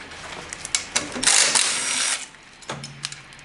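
A ratchet or wrench loosens an 8 mm bolt on a Honda Ruckus scooter. A few sharp clicks and mechanical taps lead into a short grinding burst of the bolt turning, then quieter ticks close by.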